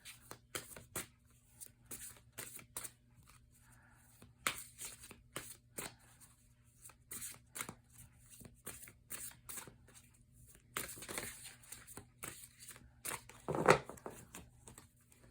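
A deck of oversized cards is shuffled by hand in a quiet room, giving irregular bursts of crisp riffling and slapping over about fifteen seconds, with a louder flurry near the end.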